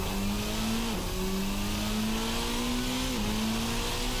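A Formula race car engine in a racing simulator holds a high, steady rev with a brief dip as it shifts, then climbs again, loud and continuous in a simulated cockpit.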